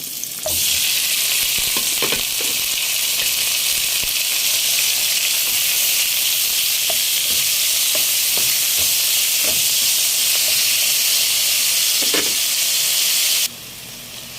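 Chicken for chop suey fries in a pan with a steady, loud sizzle and hiss, small pops and stirring clatters scattered throughout, cutting off near the end to a quieter hum.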